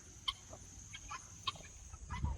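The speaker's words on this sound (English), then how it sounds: "You can see Freddie, our Bielefelder rooster here" A Bielefelder rooster among a backyard flock gives a few sparse, quiet clucks and short calls over low background rumble, with no speech.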